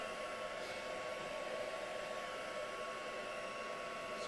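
Heat tool drying shimmer paint on a mixed media piece, a steady, even whooshing blower roar held throughout at moderate loudness, with no talk.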